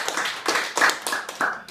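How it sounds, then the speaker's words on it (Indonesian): Several people clap at a modest credit union anniversary celebration, a short run of distinct, separate hand claps in loose rhythm, close and fairly faint. "Tepuk tangan dulu."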